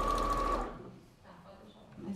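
Sewing machine running a short burst of rapid, even stitching on a doll jacket's sleeve lining, loud and close, then stopping, leaving faint room sounds.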